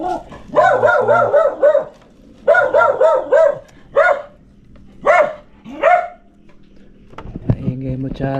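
Dog named Charlie barks repeatedly near a calamansi farm, loud close bursts in clusters with short pauses between, followed by a low rumbling noise at the end.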